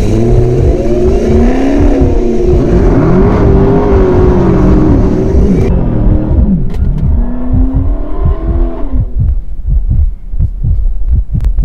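A 1,000 hp Dodge Hellcat and a 2019 Dodge Charger Scatpack in a drag race: loud, close, rumbling V8 engines rev and throb, their pitch rising and falling in pulsing surges.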